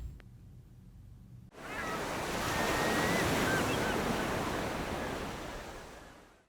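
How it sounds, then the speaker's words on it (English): Heavy surf crashes loud and broad after a quieter opening, a continuous roar of ocean waves with wind noise that builds, holds and slowly fades, standing in for a tsunami's killer wave racing across the ocean. "Tsunami, a killer wave, speeding across the ocean at 400 miles an hour."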